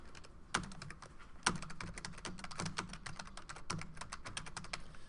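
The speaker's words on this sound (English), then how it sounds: "got to type the whole darn thing again." Someone types steadily on a computer keyboard, a fast, uneven patter of close, light key clicks with a few harder strikes, with no voices over it.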